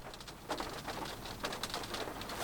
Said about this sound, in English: There is rain hitting the shell on the car